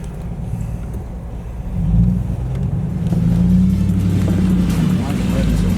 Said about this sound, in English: Why is it revving so much? Because it's in 4 low.